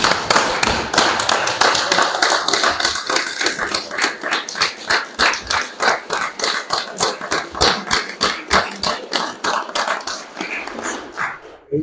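A city council meeting audience claps loudly and close, the applause settling into rhythmic, evenly spaced group clapping that carries through to the end.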